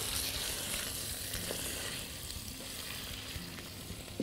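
Liver-filled spring rolls frying in hot oil, a continuous soft bubbling sizzle close up with occasional small pops and crackles, quieter toward the end.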